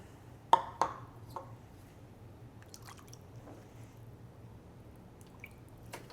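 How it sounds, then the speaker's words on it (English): Liquid bloom fertilizer poured into a plant pot outdoors while repotting philodendrons and hoyas: a few soft, close drips and small splashes early on, then faint trickles over a quiet background, with no talking. "Just kind of pouring some in here to like the halfway mark."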